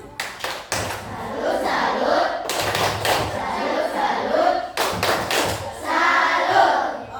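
A group performs a patterned 'tepuk salut' clapping routine, sharp bursts of many hands striking together in rhythmic sets, with crowd shouts between them and voices throughout.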